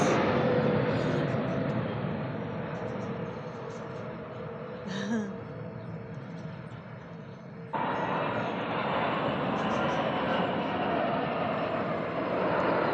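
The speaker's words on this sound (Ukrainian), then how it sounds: "Дві класні літаки літають" Two aerobatic airplanes performing loops and inverted passes at an air show, watched from a terrace: a steady, distant engine drone fills the whole stretch, swelling louder partway through, with brief soft voices in the background.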